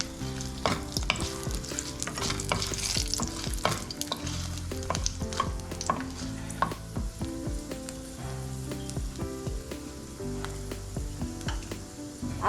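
Four dried red chillies frying in hot oil for an Andhra raw tamarind chutney, a dense continuous sizzle with frequent scraping and tapping of a spoon against the pan, close and loud with no voices.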